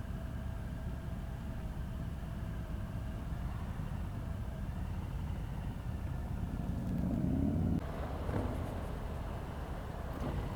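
A 2018 Harley-Davidson Breakout 114 motorcycle engine at low speed, a steady, close, continuous rumble during slow riding, swelling slightly louder near the end with some wind noise.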